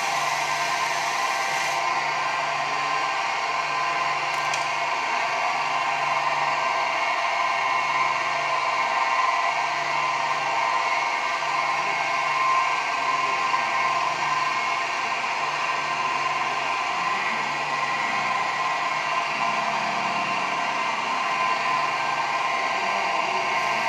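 A gemstone cutting machine whirs in a steady, high, hiss-like drone while cutting a heart-shaped stone, with no talk over it and faint clicks now and then.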